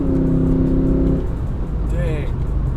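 A stock sports car engine, a new BMW M3 or Porsche Macan S, revs hard and loud nearby with a rising, buzzing note, then fades under excited voices.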